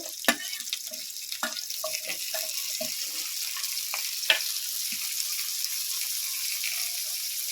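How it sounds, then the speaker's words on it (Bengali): Tomatoes drop into a hot frying pan for chicken do pyaza, setting off a broad steady sizzle punctuated by several soft thuds and clinks as pieces land and are moved. "টমেটোগুলো দিয়ে দেব"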